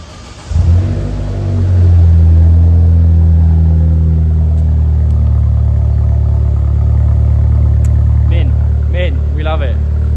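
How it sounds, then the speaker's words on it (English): A Vauxhall Corsa VXR engine cold starts with a sharp crank and catch, then flares up and settles into a loud, steady high idle. A voice speaks briefly near the end. "So, cheeky cold start."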